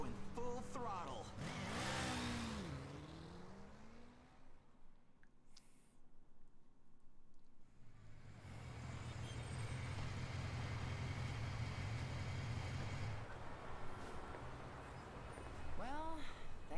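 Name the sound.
car driving at full throttle, from video game 13 Sentinels: Aegis Rim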